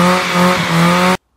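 Car tires squealing during a burnout, a loud, sustained screech with engine roar underneath that cuts off abruptly after about a second.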